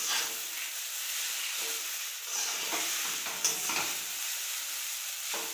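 Chowmein stirred and fried in a pan with oil, a steady close sizzle with repeated scraping stirs rising and falling throughout, no talk.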